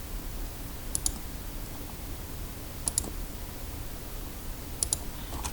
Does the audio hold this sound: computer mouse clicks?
yes